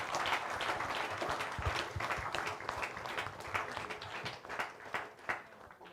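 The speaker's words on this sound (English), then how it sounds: "A big round of applause, please, for everyone" Sustained applause from an audience at a forum in Goa, many hands clapping steadily with dense, continuous texture at moderate, even volume for the whole stretch, no talk over it.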